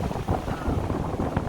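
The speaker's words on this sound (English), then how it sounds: "It's still very windy out." Strong wind in Cancun after Hurricane Delta buffets the microphone in a short, gusty rumble and rush, moderately loud and without voices.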